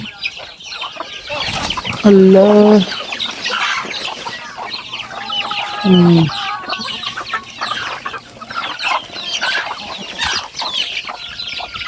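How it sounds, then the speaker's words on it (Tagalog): Many chickens on a small farm clucking and calling in a busy flock, with two loud rising squawks standing out over steady chatter; a person speaks briefly. "Ang dami na ng ating manok guys."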